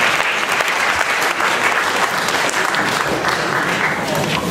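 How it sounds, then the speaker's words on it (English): Sustained applause from a large crowd, steady and dense throughout with no pauses. "can we have another round of applause?"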